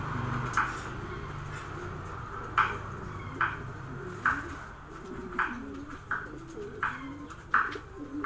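Soft, repeated pigeon coos come at irregular intervals over a low background hum, close by and fairly quiet.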